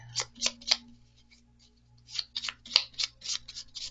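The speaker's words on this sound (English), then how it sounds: "So let's do some more shuffling." Tarot cards are shuffled by hand in a series of crisp, papery riffling bursts, with a short pause midway, close up over a faint low hum.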